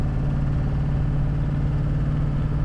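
A diesel truck engine under normal acceleration, a steady low droning hum at moderate volume with no shifts or revving evident.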